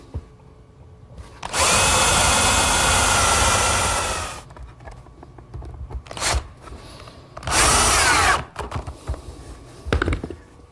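A power drill bores screw holes through a wooden workstation shelf, with a long loud burst followed by a couple of shorter bursts and light handling knocks in between.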